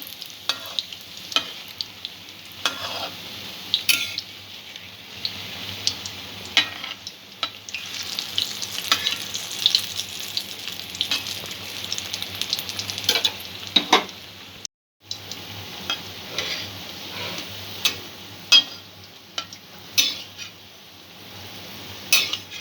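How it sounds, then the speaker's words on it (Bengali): Noodle pakoras deep-frying in oil, three or four at a time, giving an ongoing crackling sizzle with scattered sharp pops and occasional utensil clinks, near and fairly quiet, a brief gap midway, no speech. "একসাথে ভেজে নেব, একসঙ্গে খুব বেশি দেব না, দুটো সাইড ভালো করে ভেজে নেব।"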